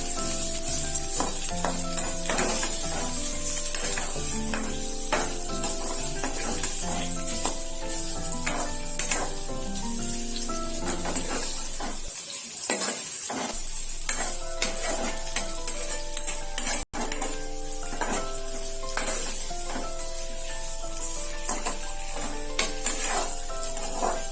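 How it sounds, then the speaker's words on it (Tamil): Potatoes and garlic fry in hot oil in a pan, giving a steady sizzle broken up by repeated scraping and stirring of a utensil against the metal. No one speaks. "இது கொஞ்சம் ஃப்ரை ஆகட்டும் ஏன்னா அந்த உருளைக்கிழங்கு அந்த எண்ணெயில் வறுபடுறதுல ஒரு தனி டேஸ்ட் வரும்"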